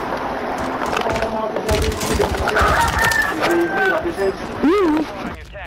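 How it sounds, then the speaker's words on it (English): Cartoonish chicken clucks and a squawking crow-like cry go off close in the ear during a Warzone 3 match on Rebirth Island, mixed over gunfire and game effects, with brief excited talk nearby. "chicken going off in my ear"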